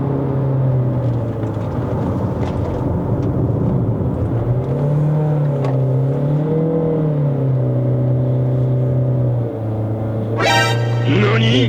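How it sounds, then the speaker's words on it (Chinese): A Chery Tiggo Cross 1.5 HEV engine drones steadily as the car climbs uphill toward Genting in Malaysia. Its pitch rises and dips gently, with a brief high chirp near the end. "只是会有一点噪音啊，它的引擎声浪你会听到了。"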